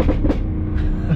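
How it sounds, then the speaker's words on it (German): A 2019 Audi RS6 Performance with 830 PS downshifting, its exhaust letting out a rapid, rough burst of pops and crackles over a low engine rumble, close and loud. "Hört euch bitte das Maschinengewehrfeuer an, was das Auto rauslässt, wenn er runterschaltet"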